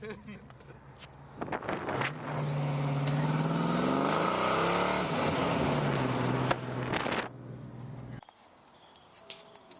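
A Kawasaki KZ650 motorcycle engine runs close by, rising into a loud sustained rev with a shifting pitch, then dropping off abruptly to a faint idle and background noise near the end.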